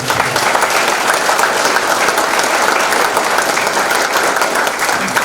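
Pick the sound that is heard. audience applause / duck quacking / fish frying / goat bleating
audience applause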